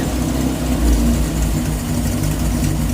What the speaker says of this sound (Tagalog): Nag-iiba siya ng tunog pagka pagka pinatay mo susi, nag-iiba tunog ng makina.